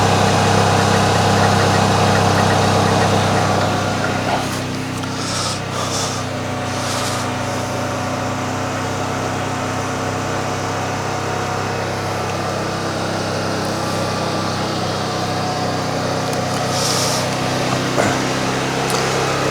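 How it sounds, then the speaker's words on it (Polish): An air conditioning service machine runs steadily while pulling a vacuum, a constant low mechanical drone with a continuous hum and no pauses, close and fairly loud throughout. "Odpaliłem maszynę, w tym momencie robi się próżnia, zobaczcie jak to wygląda."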